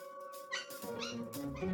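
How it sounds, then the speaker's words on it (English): A dog yips and whimpers in short high squeals and whines over a steady background hum, fairly faint and continuous. "he's making so much noise, I think I'm gonna have to give Leo the dog"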